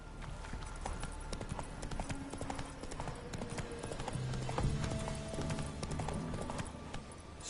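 Hooves of a horse clip-clop at a steady walking rhythm in The Witcher 3 on PS5, fairly quiet against soft game ambience, with a brief low voiced tone partway through.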